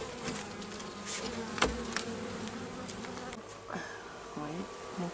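A dense, continuous buzzing of many honeybees up close at an open hive, with a low murmur of voices underneath and occasional clunks.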